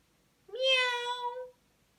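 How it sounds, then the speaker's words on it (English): A cat gives one clear, drawn-out meow, close and alone against near silence. "Meow, says Kitty."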